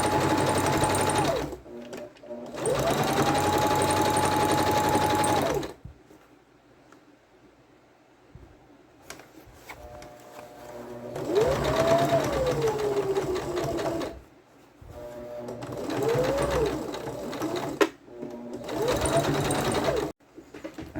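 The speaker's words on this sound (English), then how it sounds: "Now for those 3 seams on the side of the bag, sewing the bag together." Sewing machine stitches the side seams of a fabric bag made from a grocery bag pattern in several long bursts, its motor whirring steadily and rising in pitch as it speeds up, with quiet pauses between runs.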